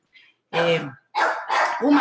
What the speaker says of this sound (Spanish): Les pido disculpas por los ladridos de mis perras.